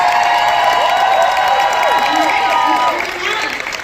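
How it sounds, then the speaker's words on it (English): Convention crowd cheering and applauding for the Full House cast, loud whoops and high shouts ringing over a wash of clapping, tapering slightly toward the end. "Can you get a big applause going for the Full House cast?"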